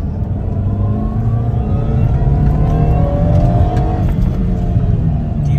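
The small supercharged engine of a Subaru Vivio RX-R kei car revs hard and climbs steadily in pitch under acceleration, loud and close from inside the cabin, with a continuous droning whine and road roar.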